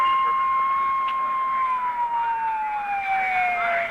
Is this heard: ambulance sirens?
yes